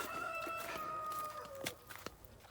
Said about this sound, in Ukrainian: Чуєте півні кукурікують?